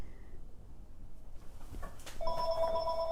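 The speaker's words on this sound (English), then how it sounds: "There's a telephone ringing." A telephone bell starts ringing partway through, a bright trilling ring over quiet outdoor background noise.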